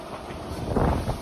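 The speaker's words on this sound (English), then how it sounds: "This wind, bloody hell!" Strong autumn wind gusts through a garden of fruit trees and raspberry bushes, a steady rushing buffet against the microphone.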